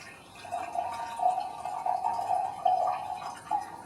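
Steeped organic gunpowder green tea poured one-handed from a gaiwan, a steady close liquid trickle running for several seconds with slight swells in flow.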